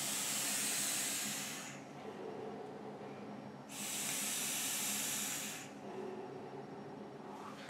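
A copper parallel box mod vape by El Diablo, the Abaddon, is fired. Two drawn-out hissing puffs, each about two seconds long, are separated by a quieter airy pause.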